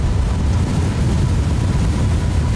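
A jet airplane in the video game Crysis Remastered roars steadily throughout, a dense, loud, unbroken engine rumble with no talk over it.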